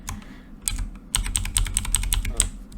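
Computer keyboard presses during a digital card game, a quick run of crisp, close clicks tapping at an uneven pace over a low steady hum, with no talking over them.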